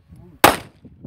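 A single sharp Glock pistol shot at an outdoor range rings out loud and close, trailing off into faint background murmur.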